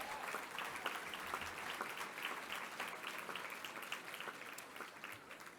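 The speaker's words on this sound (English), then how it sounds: "One more applause for the scholars" A dinner audience at an award event applauds the scholars, a continuous, even wash of clapping that stays fairly faint and distant from start to finish.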